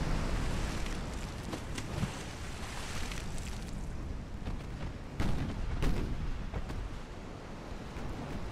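Heavy warship main guns fire in the naval battle game Ultimate Admiral: Dreadnoughts, with several booming blasts over a constant rumble of wind and sea. The loudest shots land near 2, 5 and 6 seconds.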